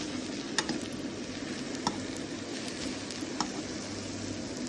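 Aubergine slices sizzle steadily in a hot pan while being turned for a vegetable tarte tatin, a close, continuous frying hiss broken by a few sharp clicks and taps of the turning utensil.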